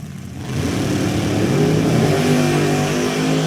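A Top Dragster drag racing car launches off the starting line at a Jegs Sports Nationals event in Epping, its engine bursting into a loud, sustained roar after a brief quieter moment.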